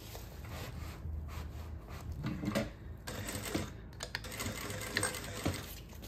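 A sewing machine stitches bias binding around a backpack panel, giving soft, quiet bursts of rapid mechanical clatter with short pauses between runs.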